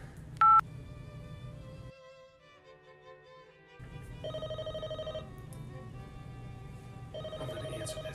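An electronic phone ringtone chirps in repeated bursts after a short beep, with pauses between rings, moderately faint over a quiet background.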